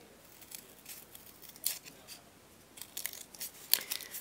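Scissors snip through cardboard pieces for a sculpture, giving faint scattered crunching cuts and rustles at an uneven pace, quiet and close, with no voices.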